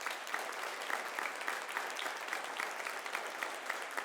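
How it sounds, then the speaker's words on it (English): Steady audience applause at a high school college signing ceremony, dense and continuous for several seconds with no talk over it, moderately loud and close. "So another big round of applause,"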